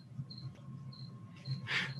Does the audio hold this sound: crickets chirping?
yes